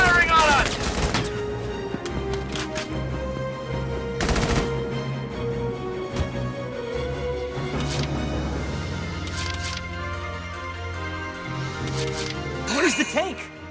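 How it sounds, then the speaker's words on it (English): Enemy gunfire in Valkyria Chronicles 4, with bursts of automatic fire and sharp single shots scattered across the scene. Louder cracks stand out over a rumbling background, and voices talk between the volleys. "They're firing on us!"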